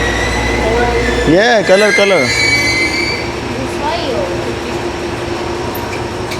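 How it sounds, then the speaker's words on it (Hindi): A train pulls into a station in Japan. High, wavering wheel squeals rise and fall over a loud rumble, then settle into a steady hum, with people talking nearby. "ट्रेन भी आ गई"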